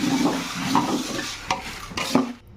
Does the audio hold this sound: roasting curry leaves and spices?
yes